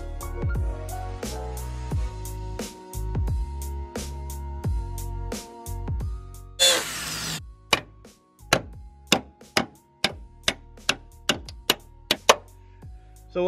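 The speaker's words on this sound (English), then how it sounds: "Once you put that seam splitter through it and start hitting away, it's going to bust that weld." Steel hammer blows strike a seam splitter driven into a spot weld on a Silverado cab corner, a run of sharp metallic hits growing quicker and evenly spaced toward the end, with a brief grinding burst partway through.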